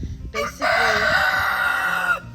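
A single loud rooster crow, drawn out and strained, rising and holding for over a second before cutting off, close to the listener.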